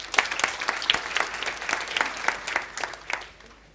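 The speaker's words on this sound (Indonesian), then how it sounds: "Beri tepuk tangan." A congregation at a church sermon breaks into brief applause, a fairly close burst of rapid, uneven claps that fades out near the end.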